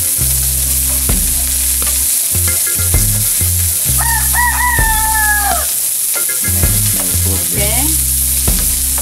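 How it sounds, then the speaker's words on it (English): Loud, steady sizzling of onions stir-frying in hot oil, close up, with a rooster crowing in the background and no talking. "So I'll start by stir frying some onions"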